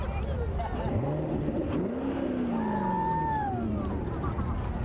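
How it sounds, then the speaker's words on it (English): A Chevrolet Corvette from a Corvette Club rolls along a Memorial Day parade in Piqua, Ohio, its engine revving in rising, falling sweeps over a steady crowd murmur and background chatter. "He just stepped on the gas and probably used 2 gallons of gasoline."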